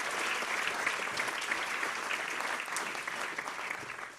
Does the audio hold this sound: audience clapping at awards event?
yes